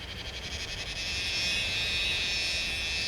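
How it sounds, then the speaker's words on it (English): A dense, piercing, high-pitched drone of cicadas fills the air, swelling slightly and holding steady with no voices. "The piercing sound of the cicada apocalypse"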